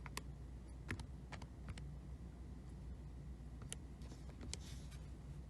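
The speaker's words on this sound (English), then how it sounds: "And now we'll type this expression in" Buttons pressed on a calculator while entering an algebraic expression, a faint, irregular series of small clicky taps over a low steady hiss.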